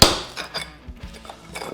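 Chisel chipping out a broken tile over backer board, a sharp hard strike followed by a few lighter knocks and scrapes, close and brief.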